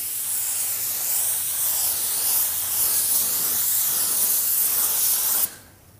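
A spray gun lays base coat paint onto a car panel in a steady, close, loud hiss with slight pulsing, lasting several seconds before cutting off abruptly.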